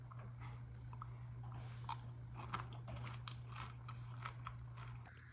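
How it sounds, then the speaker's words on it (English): Crunchy cereal with dried raspberry pieces and almonds being chewed close up, a steady run of crisp crunching bites over a constant low hum, no talking. "It's like basically eating regular cereal."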